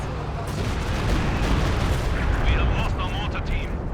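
A Walker Stuka rocket artillery barrage in Company of Heroes 2, heard as a dense, continuous roar of rumbling impacts and explosions that stays loud and steady throughout.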